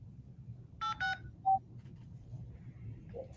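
A telephone number is dialed with a few short touch-tone beeps in quick succession, fairly clear over a low background hum.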